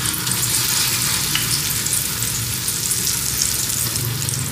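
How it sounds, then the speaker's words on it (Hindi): Fish pieces fry in hot oil on a tawa, giving a steady, loud, hissing sizzle throughout with no talk. "हाँ जी, अब हम मछली फ्राई करेंगे।"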